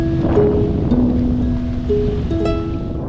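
Ocean waves surging against exposed rock at low tide, a loud continuous low rumble of surf with heavy wind buffeting the microphone, steady throughout with no distinct individual breaks and no voices.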